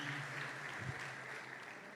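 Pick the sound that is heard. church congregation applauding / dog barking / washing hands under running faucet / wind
church congregation applauding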